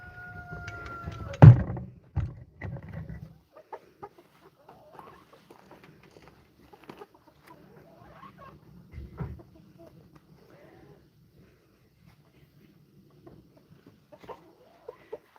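Chickens cluck in the background of an outdoor feeding area, with a burst of fowl calls and a door-like bang near the start, then sparse faint clucks and pattering scattered through a long, mostly quiet stretch.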